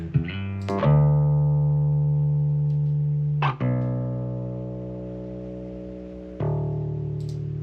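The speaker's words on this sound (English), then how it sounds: "Now here's what sounds without the amp simulator." A clean bass guitar with no amp simulator plays three plucked notes that ring out and slowly fade, with a bright, twangy attack on each pluck, heard solo.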